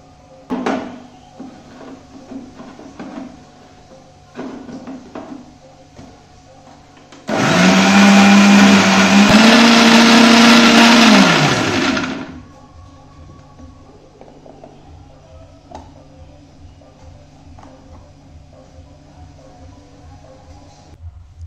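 A blender grinds boiled garlic and green chili into a paste, switching on with a loud steady whir that rises in pitch, runs for about five seconds, then cuts off, with quiet kitchen clatter before and after.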